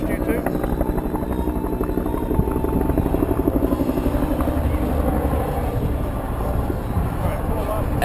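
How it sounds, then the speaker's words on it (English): Two AH-1 Cobra helicopters fly past in tight formation at an air show, their rotor blades throbbing in a steady, loud, continuous chop, with wind buffeting and an announcer speaking over the noise. "The two helicopters in tight formation will fly down the crowd line from your right to your left."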